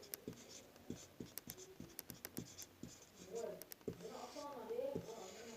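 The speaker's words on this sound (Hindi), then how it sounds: "सॉल्यूशन लिखते हैं इधर।" Pen or chalk writing out a physics solution, with a series of sharp taps and strokes in an uneven rhythm, close by, followed by a softer voice speaking underneath.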